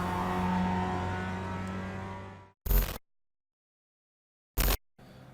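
Mazda MX-5 Cup race cars launching at the race start at Laguna Seca in iRacing drone with a steady engine roar that cuts off abruptly, followed by two short loud bursts separated by silence.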